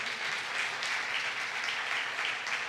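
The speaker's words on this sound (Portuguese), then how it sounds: "Dê um aplauso a ele por isso." A church congregation claps steadily after a pastor calls for applause during a sermon, a dense, even patter of many hands that fills the room without pause.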